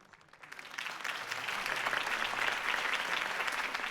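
Applause rises from a crowd in a Batman video game, starting softly and quickly building into sustained, steady clapping that continues to the end.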